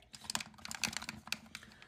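Rapid typing on a computer keyboard during a gaming session, a dense irregular clatter of close key presses with a few louder strikes, heard on its own.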